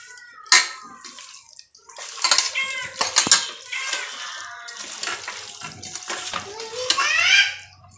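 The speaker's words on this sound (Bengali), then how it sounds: "আর আমি যে মশলা বেটেছিলাম সেই জলটা এখন আমি দিয়ে দিলাম আর কি, মানে সেই মশলার জলটা।" Water from ground spices is poured into a pot of duck curry, producing splashes and a short trickle mixed with metallic clinks of utensils against the pot, close by and intermittent.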